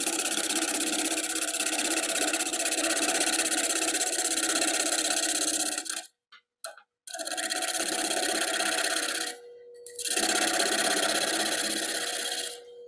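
A wood lathe spins a multi-axis wooden camper's cup at nearly 1,000 RPM, giving a steady, close whirring hum that cuts out briefly twice partway through before resuming.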